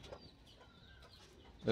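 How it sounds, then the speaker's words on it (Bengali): A black hen gives soft, scattered clucks, fairly close, ending in a sudden louder squawk. "কালো মুরগিটা আসতেছে"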